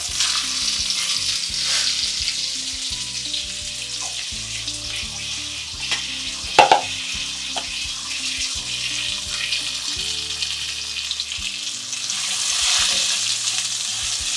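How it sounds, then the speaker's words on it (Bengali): Cut potato pieces frying on high flame in hot spiced oil for an aloo potol dish, a loud steady sizzle with stirring scrapes and a sharp clatter partway through. "হাই ফ্লেমে আলুটা ভেজে নিচ্ছি"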